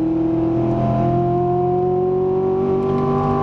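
A Corvette C7 accelerates out of a left-hand corner on a racetrack, engine note climbing steadily and loud from inside the car, with no talk over it.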